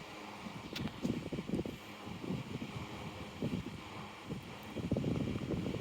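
A Koonie WH1102 portable fan running on auto mode, a steady rushing whir like wind that swells and eases, getting louder toward the end, with no talking.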